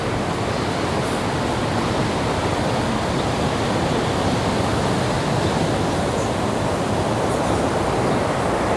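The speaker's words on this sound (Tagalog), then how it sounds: "Grabe, malakas ng alon." Steady, loud roar of strong surf whipped up by a typhoon at Iba, Zambales, fills the whole stretch, a dense continuous wash of water with no pauses and no voices.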